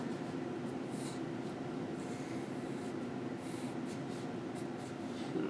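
Pen scratching diagonal lines across paper in a steady run of short strokes, faint and close against a constant low background hum, with no talking.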